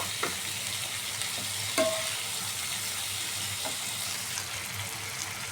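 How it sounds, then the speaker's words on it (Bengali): Meat frying in a pan with salt, turmeric, chili, cumin, coriander and cardamom, giving a steady close sizzle with occasional soft scraping clicks of stirring and no talking. "মশলা কষানো হয়ে গেছে এখন আমি এই মাংসগুলো দিয়ে দিলাম"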